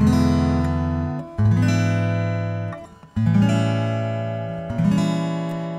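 Fingerstyle acoustic guitar played alone, strumming and plucking a blues turnaround of full ringing chords with bass notes, close and steady.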